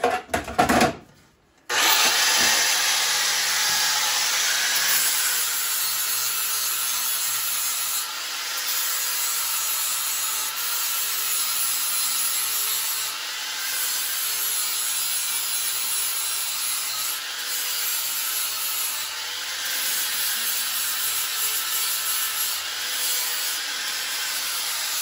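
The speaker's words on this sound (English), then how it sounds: "you can see how it's sanded them all down exactly the same" Clamped wooden parts for a quarter-scale John Deere 145H plow are sanded together on a machine. A loud, steady abrasive whir with a sharp start runs close and continuous, with no talk over it.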